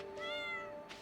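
A cat meows once in Stardew Valley, a clear drawn-out harmonic cry lasting most of a second, close and fairly soft over a steady game music drone.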